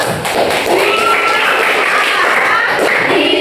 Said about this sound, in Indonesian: Tepuk tangan untuk kelompok lebam.